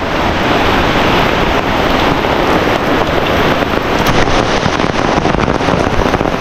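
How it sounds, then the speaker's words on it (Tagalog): Heavy, unbroken rain during a typhoon beside rice paddies, a dense, loud, steady roar with gusts of wind and no voices. "Tuloy-tuloy yung ulan mga kasulo, hindi tumigil."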